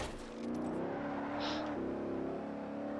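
A car engine revs in the Forza Horizon racing game, a sustained droning whine that climbs and shifts pitch at steady, moderate loudness.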